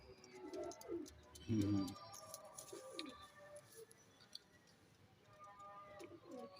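Firozpuri pigeons cooing in short, soft bursts with a louder low coo near the start, accompanied by light chirps and background noise, while a person murmurs briefly.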